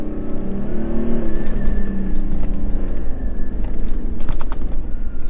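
Toyota Land Cruiser 300 engine driving on sand dunes, a steady loud drone with engine tone rising and holding throughout, no talk over it.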